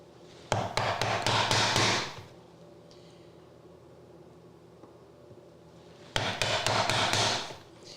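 A chisel is struck in two bursts of rapid, sharp mallet taps while dovetails are hand cut in wood, with a quiet pause between the flurries.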